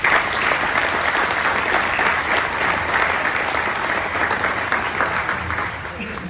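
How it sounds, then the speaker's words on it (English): Steady, loud applause from a crowd at a sheriff's town hall debate in Crooksville, Perry County, Ohio, with dense clapping that continues evenly throughout and fades slightly at the end. "give them a round of applause for showing up"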